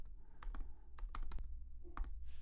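Quiet clicks from a computer keyboard come in short, uneven clusters over a steady low hum as words are typed one key at a time.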